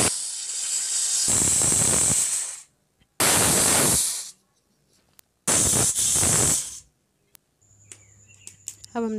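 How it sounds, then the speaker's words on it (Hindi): A pressure cooker whistle shrieks in three long, loud hissing blasts separated by short pauses, followed by faint clinks and a low hum, while cooking chhole. "इधर हमारे प्रेशर कुकर में सीटी आ रही है।"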